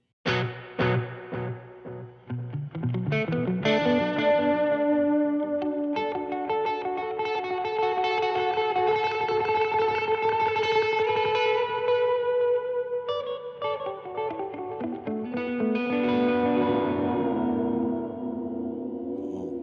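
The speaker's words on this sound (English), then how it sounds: "We'll throw the reverb after that." Electric guitar through a delay pedal followed by a reverb pedal, chords and notes washing together with echoing repeats and a long, spacious reverb tail, sustaining loudly throughout.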